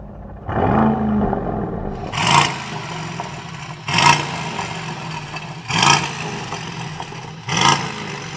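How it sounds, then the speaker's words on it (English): An Aston Martin DBX707 SUV sits stationary while its engine is revved hard four times in a steady rhythm, each loud roaring burst climbing and falling back to a rumbling idle, heard up close. "Now let's have a listen to what noise you can make with these cars when you rev them at a standstill."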